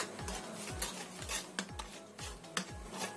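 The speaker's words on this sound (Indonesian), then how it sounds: "Kita aduk sampai rata." Cake batter of flour and sugar being stirred for Indonesian lemet, a spoon knocking and scraping against the bowl in a steady rhythm of close, distinct strokes about twice a second, with no talking.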